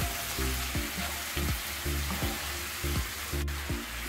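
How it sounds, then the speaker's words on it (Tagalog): Ground pork frying in a pan with sugar added is stirred, giving a steady loud sizzle with rhythmic scraping strokes of the utensil about twice a second, up close and with no voices. "And then mix."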